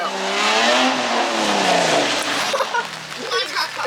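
A drifting Nissan G35/350Z revs hard as it slides through a transition and spins out, engine pitch climbing then falling with tire noise, loud and near, with people talking over it.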